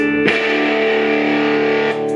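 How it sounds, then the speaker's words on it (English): An electric guitar played through a home-built clone of an MXR Distortion Plus pedal: one loud, buzzy distorted chord is struck and rings out sustained for nearly two seconds before being cut off. "So here we go, just Distortion Plus."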